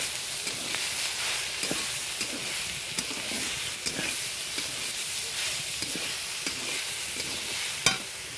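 Water spinach (kalmi shak) is tossed into a kadai of hot oil with fried onion and green chilli, a loud, dense, continuous sizzle with soft stirring scrapes and no speech.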